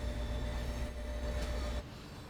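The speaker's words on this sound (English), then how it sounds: "Yeah, so this is the train." A Boston Sprinter train in Train Sim World 2 runs with a steady, loud rumbling roar heard from the noisy end of the train, the continuous drone easing slightly near the end.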